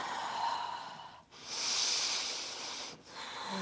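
Deep, slow breathing during a yoga pose, close and alone: a long inhale, a short pause, then a longer airy exhale before the next breath begins.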